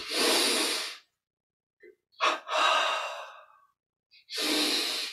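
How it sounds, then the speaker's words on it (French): Deep breathing exercise with a forceful double inhale and a long, hissing exhale, close and loud breaths separated by silences. "double inspire, on contracte tout. Et expire, on revient au centre."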